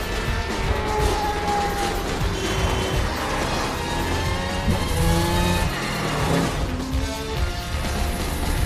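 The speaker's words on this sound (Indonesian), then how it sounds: "Menggunakan mobil super cepat, Frank kembali mengejarnya." A super fast car in a chase in the Mafia video game, its engine revving and droning steadily with shifting pitch and occasional tire squeal, loud and close throughout.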